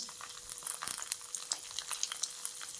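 Crushed garlic with urad dal and chana dal frying in hot oil, a close, bright crackling sizzle with rapid pops throughout.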